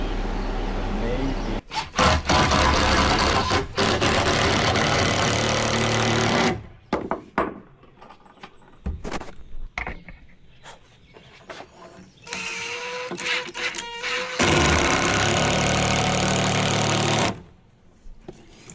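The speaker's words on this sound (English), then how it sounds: "we use Charlie's pocket hole Krig jig to drill 2 holes" A drill bores pocket holes with a Kreg jig into 2x4 lumber for a deck railing, giving loud sustained whirring bursts separated by quieter stretches of handling and clatter.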